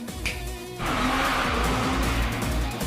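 A Toyota Trueno drifting at speed in an anime, its engine revving hard and then surging into a loud, sustained roar with a squeal of tyres, close and full throughout.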